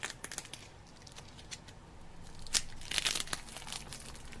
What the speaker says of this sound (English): Some kind of old cellophane.